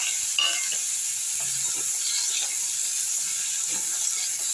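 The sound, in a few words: potatoes frying in oil in a wok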